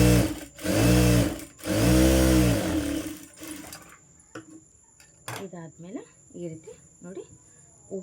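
A sewing machine stitches fabric for a small child's palazzo dress, running in two loud, steady whirring bursts, then falling quiet while someone speaks softly over faint handling sounds.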